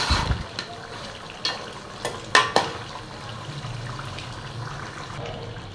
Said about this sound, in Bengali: তো এটাকে আমি সুন্দর করে আস্তে আস্তে কষাতে থাকবো